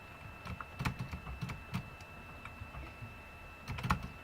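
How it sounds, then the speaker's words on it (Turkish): A computer keyboard clatters in irregular bursts of clicking keystrokes with short pauses between them, close and fairly quiet, with no voices. "Klavye tuş sesi."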